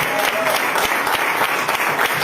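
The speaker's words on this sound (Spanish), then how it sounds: "Alguien pide un aplauso a Dios por eso, por favor" A church conference congregation applauds, giving dense, continuous clapping with some crowd noise and a voice faintly present beneath it.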